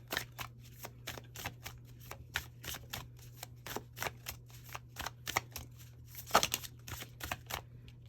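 A deck of oracle cards is riffle-shuffled and handled close up, giving quick repeated papery flicks and taps in an uneven rhythm against a faint steady hum.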